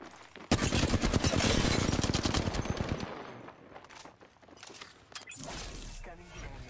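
Rapid automatic gunfire in the Apex Legends arena shooter, loud bursts of dense repeated shots for a few seconds, then quieter scattered shots and game sounds.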